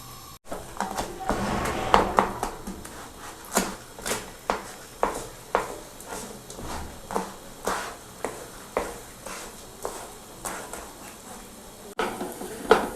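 A spoon stirs semolina halwa in a pan on the stove, scraping in a steady rhythm of roughly one stroke per second, close and fairly loud, with faint sizzling beneath.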